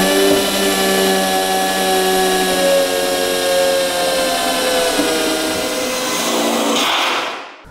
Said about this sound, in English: so we are drilling into metal sheet